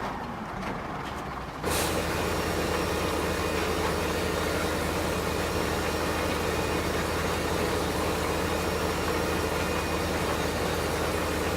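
A tractor engine idles in the modded Farming Simulator 2015 game: a loud, steady, low diesel drone that kicks in after a brief quieter moment and holds evenly throughout, with no talking.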